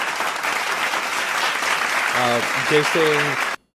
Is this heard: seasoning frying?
no